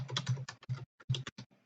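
Quick, close keystrokes clatter on a computer keyboard in uneven bursts, with a short pause before another flurry of typing.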